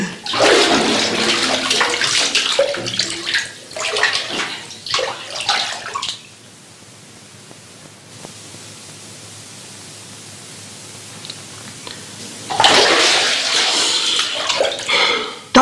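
A man dives into a bathtub, producing bursts of splashing and sloshing water, loud and close, followed by a quieter stretch before renewed splashing toward the end.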